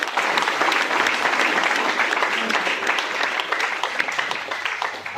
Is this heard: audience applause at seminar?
yes